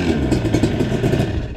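Motorcycle fitted with a hydraulic clutch, its engine a steady close rumble with pulsing clatter across a short stretch.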